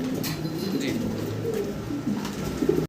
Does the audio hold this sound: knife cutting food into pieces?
no